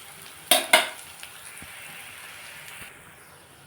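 Onion, green chili and ginger-garlic paste frying in oil in a pan: two sharp metallic spoon clanks up front, then a soft, continuous sizzle with small stirring knocks, fairly quiet and without talk.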